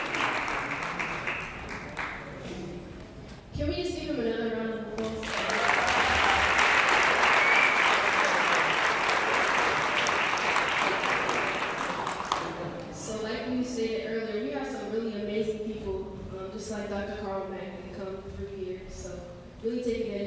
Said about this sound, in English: Can we just give him another round of applause?